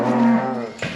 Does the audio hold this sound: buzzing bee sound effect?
no